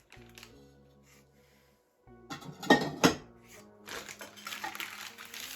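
Ceramic plates clink and scrape together as they are shifted and stacked, with a few sharp clatters amid quieter rattling.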